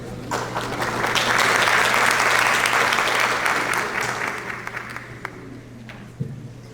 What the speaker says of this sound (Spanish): Para ello pido un fuerte aplauso para comenzar.